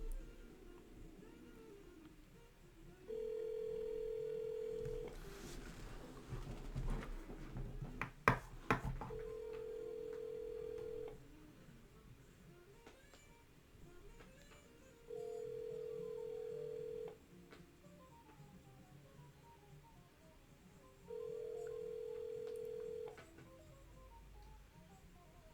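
An outgoing phone call rings back in four long, evenly spaced tones, with soft line noise and a brief burst of clicks between the first two rings; no one speaks.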